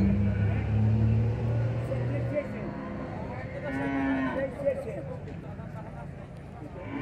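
Cattle at a livestock fair in São Bento do Una, Pernambuco, low, sustained moos rising over a busy crowd murmur, with people talking nearby throughout.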